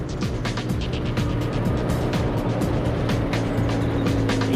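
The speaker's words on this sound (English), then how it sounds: "The Meteor engine was built by Rolls-Royce in 1944." A 1944 Rolls-Royce Meteor 27-litre V12 60-degree petrol engine of about 600 horsepower runs nearby with a loud, steady, throbbing rumble and rapid firing pulses that hold throughout.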